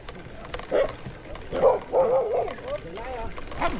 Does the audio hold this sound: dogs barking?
yes